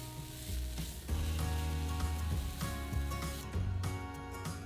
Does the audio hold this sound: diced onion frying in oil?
yes